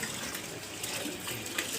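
Water runs steadily from a household tap, a continuous close splashing hiss with no talk over it.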